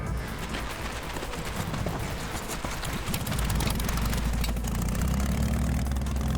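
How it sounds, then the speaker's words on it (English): A Russian-made Ural motorcycle idles at Bonneville Speed Week. Its engine makes a close, steady low rumble that grows slightly deeper and heavier midway, with no speech. "on a Russian-made Ural motorcycle"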